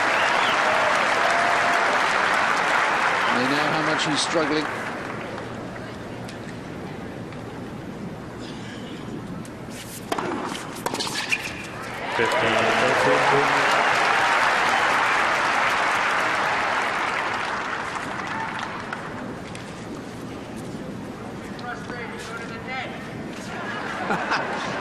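Tennis crowd applause at Indian Wells for Henman in a 2002 final against Hewitt, long bursts of clapping that die down and swell again, with a commentator speaking in between.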